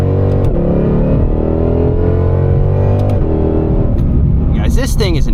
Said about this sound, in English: The supercharger sounds insane.